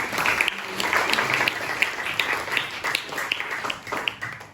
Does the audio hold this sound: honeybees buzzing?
no